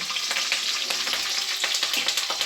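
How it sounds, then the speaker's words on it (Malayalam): Mustard seeds splutter and pop in hot oil in a home kitchen pan, a dense continuous sizzle with rapid crackling bursts, loud and close, with no talking. "കടുക് ഇട്ടാലും വിസ്ഫോടനമാണ് നമ്മുടെ അടുക്കളയിൽ"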